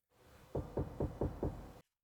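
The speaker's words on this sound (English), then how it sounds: "Rowan's in the front and he's going to give us a nice little knock" Five evenly spaced knocks on a Porsche 996 car body, hollow, muffled and fairly quiet, over faint background hiss.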